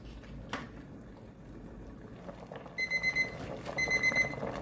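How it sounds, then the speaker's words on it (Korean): A kitchen timer rings out in bursts of repeated high electronic beeps over a low bubbling background while greens simmer in a pot on the stove. "이제부터 2분 30초를 삶아 볼게요 타이머를 맞춰 놨습니다"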